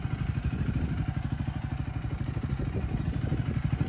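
A 2025 Triumph Scrambler 400 XC single-cylinder motorcycle engine running steadily nearby, a fast, even low thumping pulse with mechanical clatter, no voices over it.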